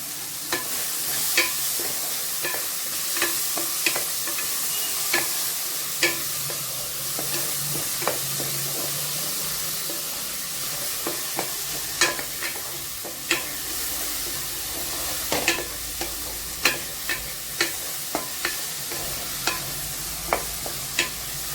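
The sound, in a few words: tomatoes with salt sautéing in a pan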